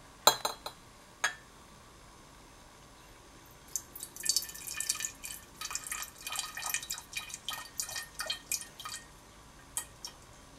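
Distilled water poured into a 1,000 milliliter round bottom flask, starting with a few separate drips and clinks, then a close trickling, splashing flow in quick irregular bursts, ending with a couple of final drops.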